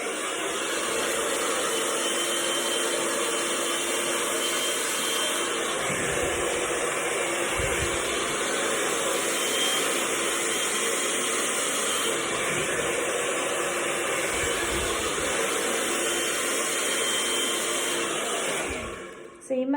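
A handheld hairdryer set to medium heat blows steadily while drying hair, a continuous close whooshing roar that holds level for the whole stretch and cuts off abruptly at the end.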